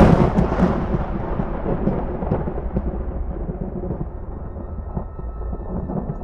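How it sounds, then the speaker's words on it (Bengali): Thunder as a sound effect for a horror story: a heavy, close rumbling crash that starts loud and rolls on, slowly fading, with no speech over it. "সেই সাথে আকাশের কোথাও কোনো বজ্রপাতের সম্ভাবনা না থাকলেও বিনা মেঘে বজ্রপাত ঘটল।"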